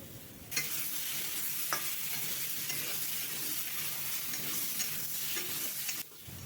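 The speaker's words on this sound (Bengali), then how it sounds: "নুন আর হলুদ দিয়ে আমি 1 থেকে 2 মিনিট মতো মিডিয়াম টু হাই ফ্লেমে ভেজে নিয়েছি" Mango pieces frying with salt and turmeric over a medium-high flame, a steady broadband sizzle with occasional stirring scrapes, continuous and close, cutting off abruptly near the end.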